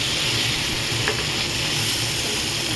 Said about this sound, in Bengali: কম করে ভাজা হচ্ছে মাছগুলো, যাতে মশলাটা তেলের মধ্যে ঢুকে যায়